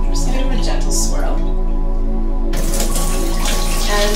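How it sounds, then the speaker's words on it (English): Water swirls gently around soaked sprouting seeds in a glass jar, a steady close sloshing wash that sharpens partway through. "I'm just gonna give them a gentle swirl"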